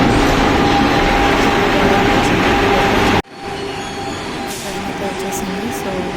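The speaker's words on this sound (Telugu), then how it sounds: "సో 6 o'clockకి ట్రైన్ అనేది వస్తుంది" A Vande Bharat Express pulls into Mysore Junction with a loud, steady rolling rumble and faint hum. It cuts abruptly to quieter platform ambience with light wheel squeal and distant clatter.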